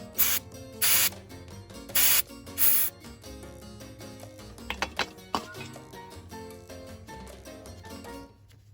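Electrical contact cleaner sprayed from an aerosol can while replacing the starter on a 2001 Subaru Outback: four short, loud hissing bursts, followed by faint clicks, rattles and handling noises of work on the car.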